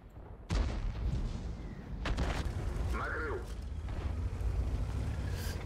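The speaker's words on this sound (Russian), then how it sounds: "Короче, делаю выстрел," A Soviet Object 261 self-propelled artillery gun in World of Tanks (Mir Tankov) fires a single loud boom early on. A low, rumbling game background continues afterward, with a brief tonal effect partway through.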